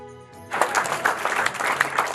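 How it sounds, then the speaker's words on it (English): Audience applause for a retired U.S. Army four-star general, bursting in loudly after a brief quiet start and continuing as a dense, steady patter of many hands clapping. "Applause for a career of hard work and perseverance."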